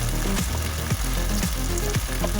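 Green chillies frying in a pan with tomato sauce, a loud close sizzle with rhythmic scrapes of a spoon stirring about twice a second, no voices.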